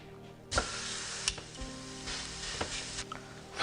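A ribeye cap steak goes into a hot pan and bursts into a loud, steady sizzle after a brief quiet moment, with a few sharp pops and spits running through the continuous hiss until it cuts off near the end.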